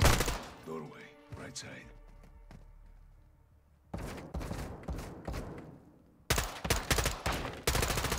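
Gunfire in Call of Duty: Modern Warfare during a house-clearing mission. A voice speaks first, then sharp bursts of rapid shots rattle out in two loud clusters.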